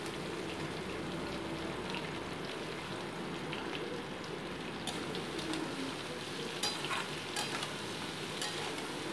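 Chopped onion and green chili sizzle in hot oil in a pan of frying potatoes for a chapila fish chachari. A steady, close crackling hiss runs throughout, with scattered sharper pops toward the end and no voices.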